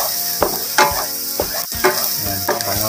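Onion and garlic sauté in a pan for adobong kangkong, giving a steady close sizzle with scraping, stirring clinks of a utensil against the pan.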